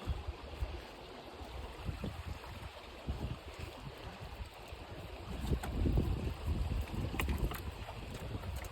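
Faint, steady rushing of a Northern Ontario river near Big Trout Lake, with low gusty wind buffeting the microphone, no voices, distant and textured throughout.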